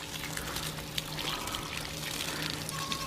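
Water poured out for calves on a farm on a warm, misty day, a steady close trickle and splash running throughout.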